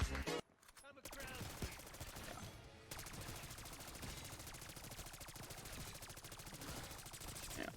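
Rapid automatic hip-fire in a video game, a sustained fast stream of gunshots that pauses briefly near the start and then runs steadily to the end, with speech mixed in underneath.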